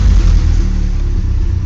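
A 1983 Toyota 22R engine revs hard and loud right up close, a steady high-RPM roar with deep rumbling low end that holds without cutting out.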